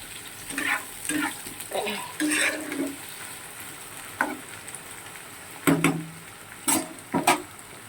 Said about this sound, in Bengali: পেঁয়াজ আলু টমেটো রসুন এগুলো একটু বেশ লাল লাল করে ভাজা হবে